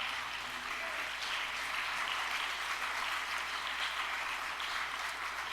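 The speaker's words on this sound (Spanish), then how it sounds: "Así le queremos aplaudir a usted." A church congregation applauds during a sermon, producing even, steady, fairly distant clapping that continues at a constant level throughout.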